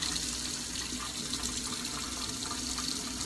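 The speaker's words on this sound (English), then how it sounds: "I'm just going to rinse this off. And I think I'm going to use a washcloth to do it" Tap water runs steadily for a rinse of a detoxifying face mask with a washcloth at a bathroom sink, a continuous close splashing hiss with no talking.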